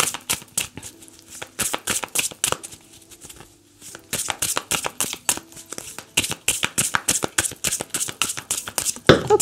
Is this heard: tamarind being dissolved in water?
no